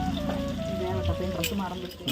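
Fish fries in a pan with a steady close sizzle and crackle while a person talks over it.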